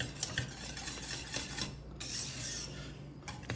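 A spoon scrapes and swirls steadily through thickening banana cream pie filling in a pot, a close, continuous rasping stir with faint clinks against the metal and no talking.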